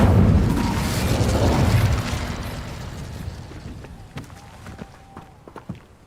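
Incendio fire spell cast in the Hogwarts Legacy video game: a loud whooshing, roaring burst of fire for about two seconds that fades into quieter scattered pops, footsteps and small impacts.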